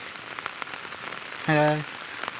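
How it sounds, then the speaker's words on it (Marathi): Heavy monsoon rain pours down in the Konkan countryside, a dense steady hiss of drops on surfaces throughout, broken midway by a brief loud tonal call. "म्हणजे भरपूर पाऊस पडतोय"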